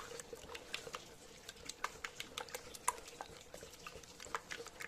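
Salt and sugar get stirred into water for Moroccan soap, with rapid light clinks and scrapes of a spoon against the container, close and quiet, in a busy uneven rhythm without speech.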